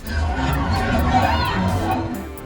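A large crowd of demonstrators in a film scene clamors and shouts continuously, a dense wall of overlapping voices and cheers with shrill higher calls, steady and fairly loud throughout.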